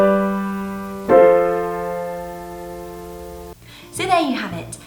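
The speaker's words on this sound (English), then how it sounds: "And we have our interrupted cadence" A sustained piano chord resolves unexpectedly away from the home chord after the dominant, a deceptive close; two struck chords ring out alone before a voice briefly begins speaking at the end.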